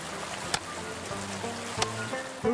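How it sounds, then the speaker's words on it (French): Steady rain patters through a cartoon thunderstorm, a continuous soft hiss punctuated by a couple of sharp clicks or thumps, with no voices over it. "Vous voyez qu'il a fini par pleuvoir."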